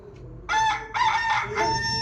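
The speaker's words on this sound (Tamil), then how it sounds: "கோழி கத்துற மாதிரி தான் இருக்கும்." A Nokia basic phone rooster crowing ringtone plays, a bright electronic-sounding cock-a-doodle-doo repeated in short bursts, fairly loud and close.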